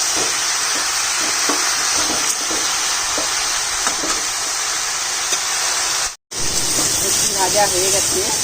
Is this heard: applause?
no